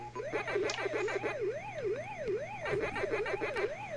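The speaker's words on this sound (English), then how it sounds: "So we've got the sirens playing in the background" The Pac-Man siren from a Tandy CoCo port, a looping electronic wail rising and falling in steady, rapid cycles, a retro arcade-style effect playing continuously without any talk.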